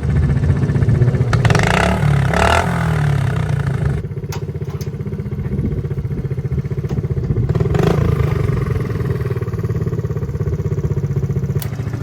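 Engine of a pit vehicle running at an American Endurance Racing 14-hour endurance race, a steady close mid-pitched motorcycle-like drone with a few revs early on and light clatter, no talk.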